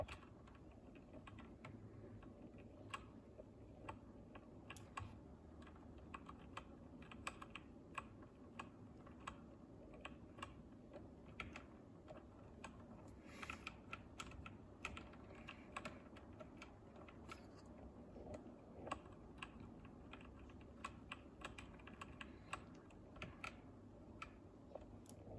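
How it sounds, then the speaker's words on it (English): Someone types steadily on a computer keyboard during a Snowrunner game session. The soft, rapid clicks run continuously at low volume, with no voice. "Sorry if the clicking from the keyboard is loud."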